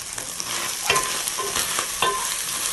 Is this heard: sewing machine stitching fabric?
no